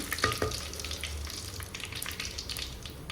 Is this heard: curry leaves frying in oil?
yes